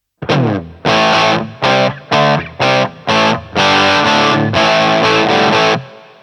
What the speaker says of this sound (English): let's hear what I've dialed in so far